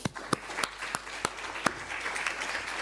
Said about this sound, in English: I'd like all of you to join me in giving all our panelists a generous round of applause.